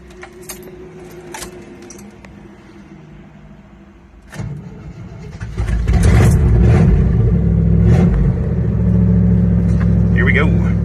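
An AMC Ambassador Brougham being started: keys jangle near the ignition, then the engine catches and settles into a loud, steady low rumble that fills the rest of the clip.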